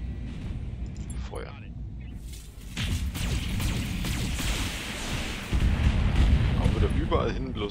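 Weapons fire in the Battletech mech combat game: a sustained roar of blasts and booms swelling after a few seconds and growing louder near the end, with a voice talking over it.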